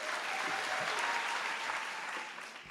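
An audience at an evening event with author Esther Perel breaks into sustained applause, a dense even clatter of many hands clapping that fades slightly at the end.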